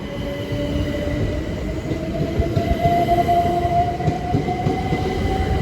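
A Class 377 electric train, unit 377517, passes at Ashford International with a steady loud rumble of wheels on rail and a faint high whine running throughout.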